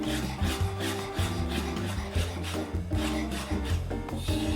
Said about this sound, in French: Et on passe la lame du couteau dessus.